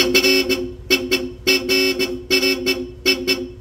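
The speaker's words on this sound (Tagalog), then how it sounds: "So yung busina ni Sir, nirewire natin, Bosch Europa." A Bosch Europa horn rewired onto a Yamaha NMAX V2 scooter sounds a loud, rhythmic series of short honks in quick clusters, repeating about five times in close succession with no talking.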